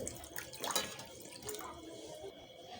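Water poured into a wok with tomatoes, a quiet splashing trickle that swells briefly early on and then settles into faint dripping.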